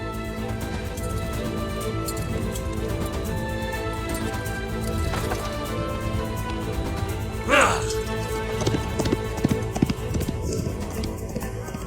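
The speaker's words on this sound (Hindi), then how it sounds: "मुझे ये घोड़ा चाहिए नोयान।" Horse hooves clip-clop in a dramatic battle setting, rhythmic tapping beneath a dense, continuous background score, with a brief sharp clatter midway and no voices.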